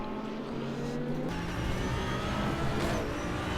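A BMW GT3 race car in a sim racing game at Twin Ring Motegi Road Course gives a sustained engine drone with rising revs, other cars mixing in, and no voices.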